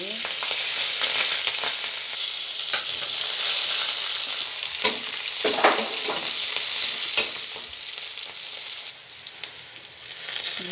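Onions and green chilies fry in oil with a loud, continuous sizzle and crackle, punctuated by scraping stirs and sharp pops throughout, with no voices.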